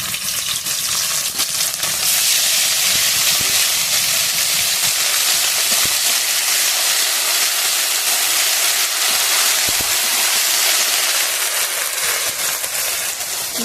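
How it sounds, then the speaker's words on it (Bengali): Whole garam masala, cumin, green chili and ginger paste sizzle and crackle loudly in hot oil, a steady dense frying hiss with no voices over it. "তেলটা গরম হয়ে গেছে, গোটা গরম মশলা দিয়ে দেবো, জিরে দিয়ে দেবো, কাঁচা লঙ্কা আদা বাটাটা দিয়ে দেবো।"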